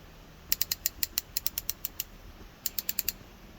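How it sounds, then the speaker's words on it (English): Snap-on fine tooth ratchet clicking in quick runs of sharp, crisp ticks, a burst of about a dozen clicks followed after a pause by a shorter run, close and fairly quiet against a faint background. "This is a fine tooth one."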